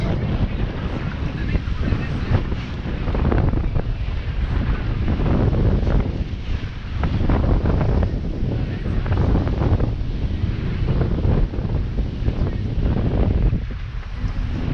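Strong wind buffets the microphone while waves slosh and splash against a sailing boat crossing the Strait of Messina, a constant rushing roar with bursts of spray.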